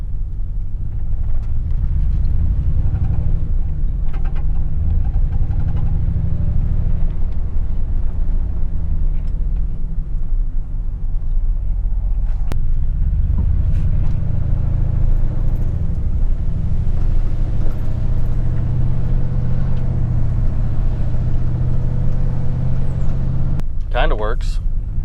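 A Ford F150 pickup truck in poor condition, pulling badly to one side, drives along with a low engine and road rumble heard from inside the cab. A person talks over it throughout.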